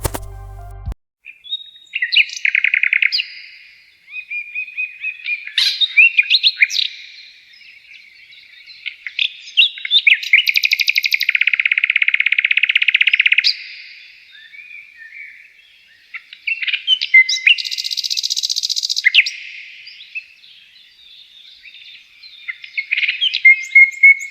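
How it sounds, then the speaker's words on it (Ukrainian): Birds sing in bright, high chirping phrases with short pauses between bursts, fairly close and clear, with no voices. "Послухайте, дітки, як вони співають."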